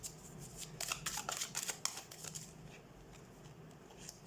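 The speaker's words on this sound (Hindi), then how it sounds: "Okay, so let's shuffle the cards and let's see." Tarot cards being shuffled by hand, giving a faint, close run of quick papery riffles and flicks in the first half before fading into quiet room tone.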